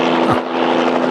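Helicopter landing in a 1970s creature film, a steady whirring rotor drone with a constant low engine tone, loud and close throughout the short moment, with no speech over it.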